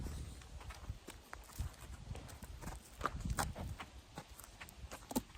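A horse being led forward at a step-up box, its hooves clip-clopping in a steady walking rhythm close by, each footfall muffled against a low background with no talking over it.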